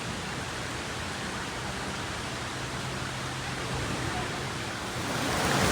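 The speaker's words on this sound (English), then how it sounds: "we got these cool fountains here that almost leaping in between the rocks" Water splashing and leaping between rocks in fountains inside the Opryland Hotel in Nashville, a steady broadband rushing wash heard near and fairly soft, growing slightly louder toward the end.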